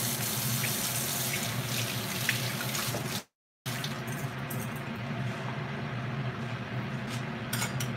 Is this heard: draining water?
yes